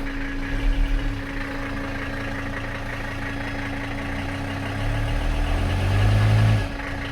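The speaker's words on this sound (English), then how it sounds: "Let's put her in drive and see the wheels spin." A Mercedes 300CD diesel engine idles steadily while the car sits in drive with a wheel spinning. A clear hum holds throughout, and a deeper low rumble swells near the end before easing off, with no talk.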